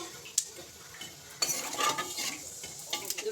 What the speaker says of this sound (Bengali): আমি ফোড়নে কালো জিরা দিয়ে দিচ্ছি।